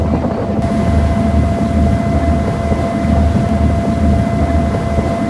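A steady, loud engine drone rumbles without break, like a boat motor heard from on board, with a constant low hum throughout, on a passenger boat to Saint-Tropez.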